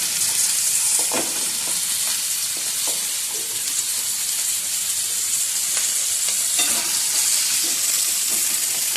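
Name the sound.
potatoes frying in pan with turmeric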